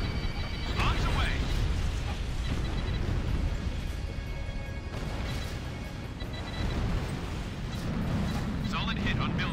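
Bombs explode in the Ace Combat Infinity flight game as a continuous loud, roaring rumble with several heavier blasts and crashes layered over jet engine noise.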